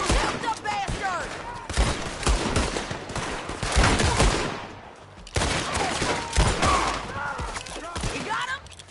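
Gunfire from Red Dead Redemption 2 cracks in rapid bursts and scattered single shots throughout, loud and close, with shouting voices mixed in amid the shooting.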